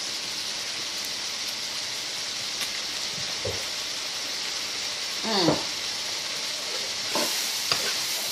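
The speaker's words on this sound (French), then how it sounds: "Là, moi, je vais déglacer un peu avec un peu de vinaigre balsamique." Vegetables and minced meat deglazed in a hot pan with balsamic vinegar, a steady close sizzle and crackle with occasional stirring scrapes and a brief louder hiss burst partway through.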